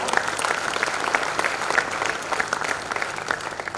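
An audience at a corporate gathering of aluminium and power business units applauds warmly for Abhijit Pati taking over Balco, many hands clapping in a steady, dense patter at moderate loudness.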